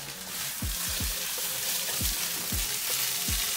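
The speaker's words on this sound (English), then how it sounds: "So around 1 to 2 cups of fresh spinach. You want to saute it." Fresh spinach sautéing over medium-high heat, a soft steady sizzle with several dull thumps of a utensil against the pan, quiet and close.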